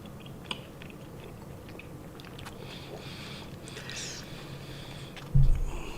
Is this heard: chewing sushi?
yes